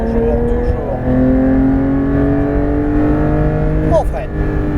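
A Porsche 911 GT3 RS accelerates hard on the Nogaro race circuit, its engine roaring loudly and climbing steadily in pitch from close range, with a brief drop near the end as it shifts.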